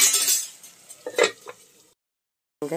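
A metal lid is set on a pan of onions cooking for rava upma, with a few sharp clinks and clatters close by, then brief silence.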